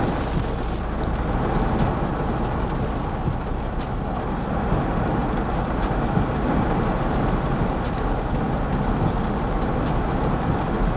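A strong waterfall pours over a car on a mountain road between Dalhousie and Bairagarh, producing a loud, continuous roar of water drumming on the vehicle, like heavy rain, steady for the whole stretch.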